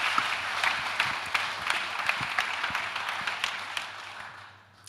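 An audience at an innovation program's closing ceremony applauds a proof-of-concept pitch with dense, steady clapping throughout that fades out at the end, with no talking over it.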